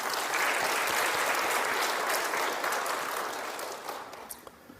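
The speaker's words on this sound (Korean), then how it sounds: "감사하는 마음으로 박수 한번 보냅시다" A church audience claps together in sustained, dense applause after a talk about a missionary, loud at first and then gradually thinning and fading toward the end.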